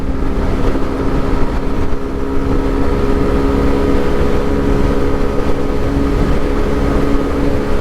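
A Yamaha YS125 motorcycle engine holds at full throttle in a steady, loud drone, with wind rushing past throughout and no talk.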